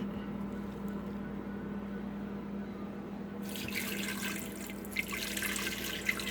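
Two cups of water stream steadily into a big pan over a low background hum, growing brighter and more splashy midway through.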